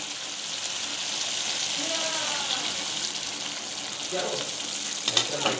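A little water poured into mutton liver masala cooking in a pan, with a loud continuous sizzle and hiss throughout, plus a few faint stirring clinks and splashes toward the end.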